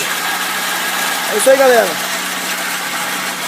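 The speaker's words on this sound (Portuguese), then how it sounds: "um barulho fora de padrão do motor do Peugeot 307" A Peugeot 307 with a 1.6 16v engine idles with an abnormal, off-pattern noise, heard as a steady low hum while someone speaks briefly over it.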